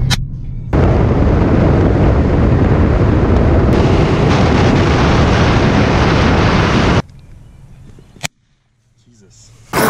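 A long, roaring blast of loud crackling bangs fired in rapid succession, then sudden quiet with one more sharp pop near the end.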